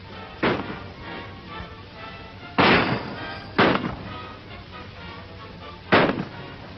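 Gunshots in a western shootout: four sharp, loud reports spaced irregularly over steady background hiss, with no talking.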